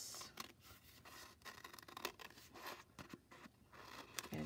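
Scissors cutting construction paper, slow close snipping and crunching strokes that repeat irregularly at low volume, with no talking.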